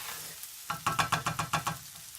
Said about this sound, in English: make sure you're stirring your rice still